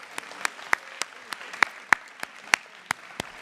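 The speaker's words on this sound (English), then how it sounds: "We'll give them a clap." Sparse applause for a student at a school promotion ceremony, a handful of distinct, separate claps at an uneven, loose rhythm over a quiet hall, close and moderately loud.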